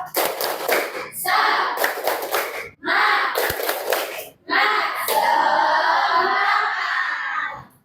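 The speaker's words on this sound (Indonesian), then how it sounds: "Tepuk semangat." A classroom of students performs a rhythmic group clapping chant, with loud, tight bursts of clapping in patterned phrases separated by short pauses and a voice or two shouting along.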